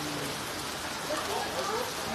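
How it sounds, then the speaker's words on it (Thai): Heavy rain pours down around an open-sided kitchen shelter in Nan, Thailand, a dense steady hiss of drops hitting surfaces throughout with no break. "เพราะฝนตกหนักมาก"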